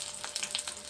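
Pieces of fish sizzle in hot oil, a brief, close crackle with bright spitting pops and no voices.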